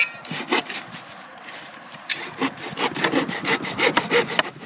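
A hand saw cuts through wood in a steady back-and-forth rhythm, each stroke a close, loud rasping burst, with a short pause partway through before the strokes resume.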